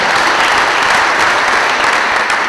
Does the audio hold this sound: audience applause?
yes